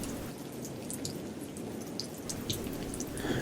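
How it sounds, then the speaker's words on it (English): Rain falls softly, a faint steady patter with scattered drips and light splashes landing on surfaces, no voices. "There's nothing quite as peaceful and soothing as the sound of falling rain."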